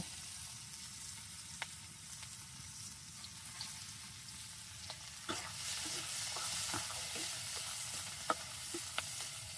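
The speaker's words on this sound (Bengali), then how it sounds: "এই যে তেলের মাঝে রসুন দেওয়া হলো" Chopped garlic fries in hot oil in an outdoor home kitchen, giving a faint steady sizzle with scattered small pops and the occasional scrape of stirring.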